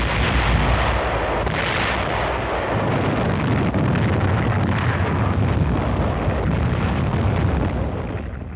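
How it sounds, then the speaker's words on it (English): Heavy artillery pounds an enemy defensive line on southern Okinawa in a 1951 wartime film, a continuous roar of overlapping blasts and rumbling bursts, loud and dense throughout with no pause. "Artillery, supported by tanks, went to work on the enemy's defensive line."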